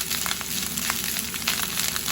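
Egg-yolk-soaked rice fries in hot oil for egg fried rice, a loud close crackling sizzle with dense popping throughout.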